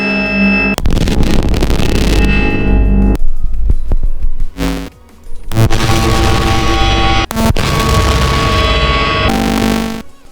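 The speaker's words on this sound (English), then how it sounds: "we can make even more interesting, nice glitchy sounds with this method" A glitchy sample mangled by extreme compression and distortion: loud, dense bursts of crunchy noise with harsh tonal streaks, broken by abrupt cutouts and short gaps, with no voice.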